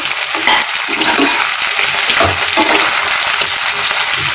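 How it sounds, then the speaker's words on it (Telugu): Chopped ivy gourd pieces frying in oil in a pan, a loud, steady sizzle with faint stirring scrapes throughout. "ఒకసారి ముక్కలు కడుపుదాం ఇంకా వేగాలి ఉన్న ముక్కలన్నీ వేగాలి"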